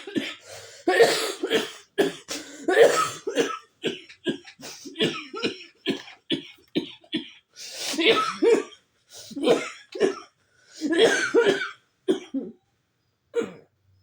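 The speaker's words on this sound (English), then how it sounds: "That cough was pretty freaking short compared to a lot of other coughing fits I've had." A prolonged fit of harsh, repeated coughs in bursts, close and loud, with short gasping pauses between clusters.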